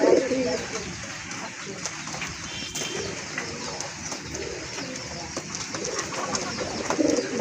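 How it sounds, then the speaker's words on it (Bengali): Rajgolla gola pigeons coo in a loft, a close, continuous rolling murmur of several birds with low voices mixed in. "মাশাআল্লাহ দেখেন আরেক জোড়া কবুতর"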